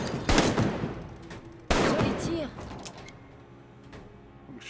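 Gunfire at targets in the VR shooter Arktika.1, two loud sharp shots about a second apart with ringing decay, then quieter handling noise and room tone.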